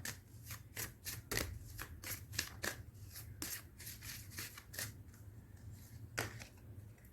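Playing cards riffled and shuffled, then drawn one by one, giving a string of crisp flicks and slaps over a low steady hum, near and moderately quiet.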